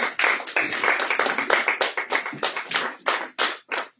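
A church congregation applauding the Lord, a burst of close, rapid hand claps that thins into slower, separated claps toward the end.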